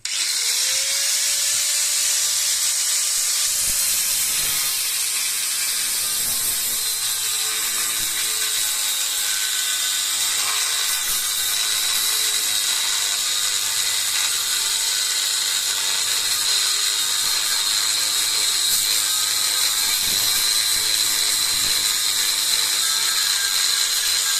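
A Dnipro-M DGA-20 angle grinder cuts into material with a loud, steady, high-pitched abrasive whine that holds for the full stretch. A lower motor tone drops away near the start.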